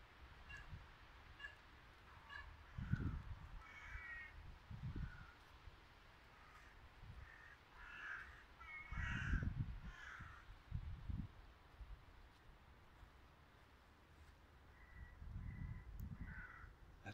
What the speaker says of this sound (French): On va parler les corbeaux là, les oiseaux qui flippent là un peu.